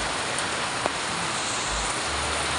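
Steady dense rain hiss fills the whole clip evenly, with a single sharp drip or tap early on and a low rumble near the end.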